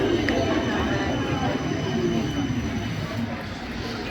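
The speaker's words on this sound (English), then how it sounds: "Tram." A tram rumbling along Erzsébet körút, a busy Budapest street, as a steady low roar with traffic noise that fades slightly toward the end.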